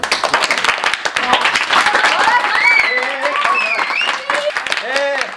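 Applause from an audience greeting a village panchayat member, clapping mixed with voices and a whistle-like tone sweeping up and down, with talk over the crowd throughout.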